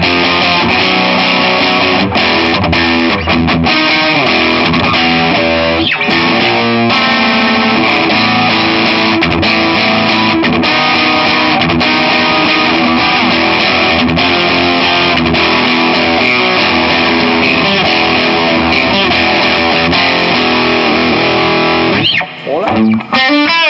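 Fender Japan Stratocaster electric guitar played through heavy distortion, with sustained driven chords and riffs that ring loud and continuous for most of the stretch before a brief pause and a final strum near the end.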